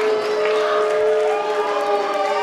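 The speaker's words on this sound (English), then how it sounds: "The crowd is not happy about that." A large wrestling crowd at a Battle Club Pro event reacts with a loud, steady roar of displeasure, sustained and dense throughout with no single voice standing out.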